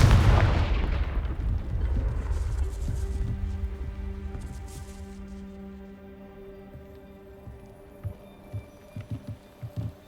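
A Confringo blasting spell goes off in the Hogwarts Legacy video game: a loud, heavy explosive boom that rolls into a long rumbling decay, followed by a few soft thuds near the end.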